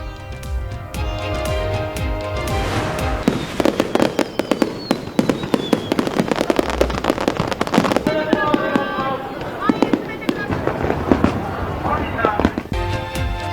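Repeated sharp crackling bursts and booming pops of a fireworks display in Tokyo, dense and continuous, with music playing underneath.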